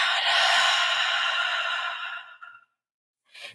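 A slow, steady exhale during a guided breathing meditation, a long breathy whoosh that fades over about two and a half seconds, followed after a pause by a short, softer breath.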